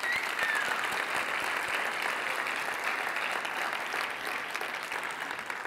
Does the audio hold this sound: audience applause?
yes